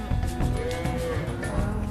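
Beef cattle moo on a small farm in Argentina's pampas, several overlapping low, drawn-out calls close by over a steady background.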